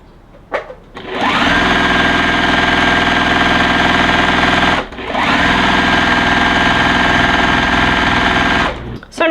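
A sewing machine stitches a scant quarter-inch seam on a quilt block. It runs in two long, fast, steady bursts of close mechanical whirring, separated by a short pause.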